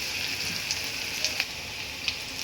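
Spices tempering in hot oil as bagar for dried fish, a continuous close crackling sizzle with occasional sharper pops, steady and alone.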